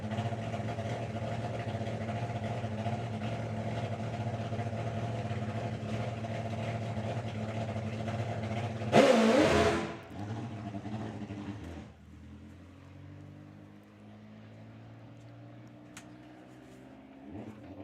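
A Top Fuel drag racing motorcycle on a slow victory lap, its engine rumbling steadily nearby, then a brief loud burst of revs before fading to a softer, distant idle.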